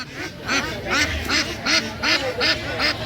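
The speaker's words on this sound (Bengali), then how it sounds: "এই যে বলে করে হাঁস নিয়ে আসছে একজন" Ducks brought for sale at a rural livestock market in Bangladesh quack loudly and close, a steady run of about six evenly spaced quacks over low crowd noise.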